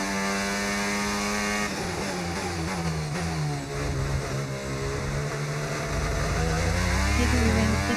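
Formula 1 race cars in the F1 2025 video game roar and rev continuously, engine notes rising and shifting through gears, loud and sustained with no voices.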